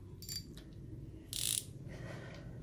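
A Japanese mini fishing reel with a 5.2:1 gear ratio being cranked by hand, giving faint, close clicking and gear whirring with a brief louder ratcheting burst midway.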